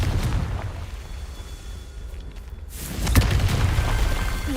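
A Confringo fire-spell blast in Hogwarts Legacy erupts as a rumbling boom with crackling noise that swells and peaks around the middle, then tails off, heard alone with no voices.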